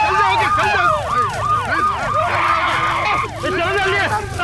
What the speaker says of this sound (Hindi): गाड़ी है, एम्बुलेंस है